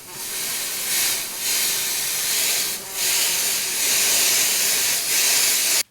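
Bug spray hissing from a can in several short bursts with brief gaps between them, loud and close, with no talking.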